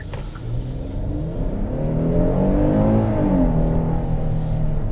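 A 2021 Kia Telluride LX with a V6 engine accelerates with a rising, then easing engine drone, heard from inside the cabin with no talk.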